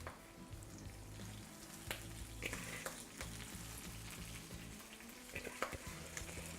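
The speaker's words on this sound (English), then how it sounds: "So before it browns, I'm gonna add in my arugula. So just add that into the pan." Arugula wilting in a hot pan with garlic and olive oil, a steady close sizzle with soft crackles and occasional clicks of the greens being moved, no talking.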